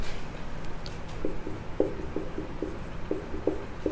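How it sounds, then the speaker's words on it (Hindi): Pen or chalk writing notes during a classroom lesson, a series of short scratchy strokes and taps in an irregular rhythm, faint but distinct against a quiet room background. "अब चलो इसके बारे में लिखते हैं।"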